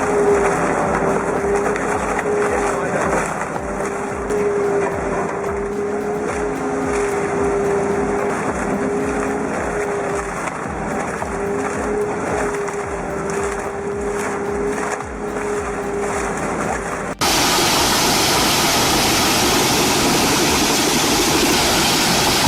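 Powerful wood chipper shredding a tree, a loud continuous engine roar with steady grinding and splintering, then a sudden shift to a harsher, broadband crunching rush near the end.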